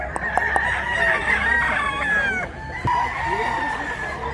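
Roosters and hens at a rural chicken sale in the Cebu hills, with Japanese-breed birds on offer: a nearby rooster crows in a long drawn call amid clucking fowl, while people talk in the background.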